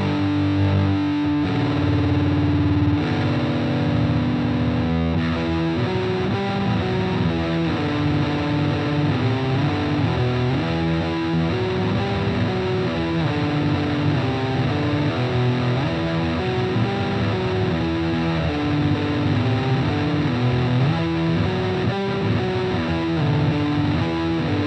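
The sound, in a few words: electric guitar, Telecaster and Strat pickups combined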